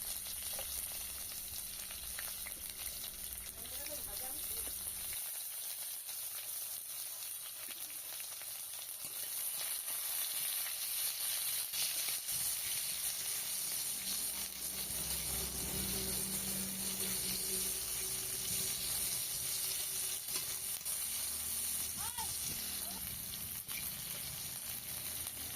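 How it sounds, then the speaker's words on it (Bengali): Chopped onion sizzles in hot oil after whole cumin seeds, a steady close frying crackle that grows fuller after the onion goes in, with occasional stirring and no talk. "এরপর কেটে রাখা পেঁয়াজ কুচি দিয়ে দিচ্ছি।"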